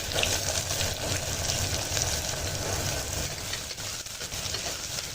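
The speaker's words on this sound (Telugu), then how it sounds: "ఇప్పుడు కొంచెం ఇది ట్రాన్స్పరెంట్ కలర్ అయ్యే వరకు మనము ఆయిల్లో వేపుకోవాలి ఈ ఆనియన్స్" Chopped onions fry in hot oil in a pressure cooker after cumin seeds, giving a steady close crackling sizzle that runs unbroken throughout without any talk.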